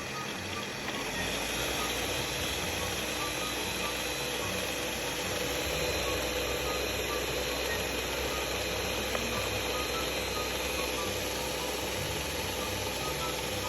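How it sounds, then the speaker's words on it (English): A kitchen blender runs at high speed through a strawberry blueberry smoothie, giving a loud, continuous motor whir and roar that holds steady throughout with no talking. "giving you guys the full visual experience of the blending process"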